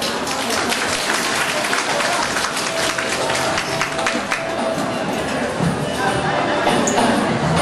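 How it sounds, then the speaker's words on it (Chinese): An audience at a charity food bank event breaks into steady, dense applause that fills the space evenly throughout, close and continuous, with a voice faintly mixed in. "那我们自己也给自己一个热烈的掌声"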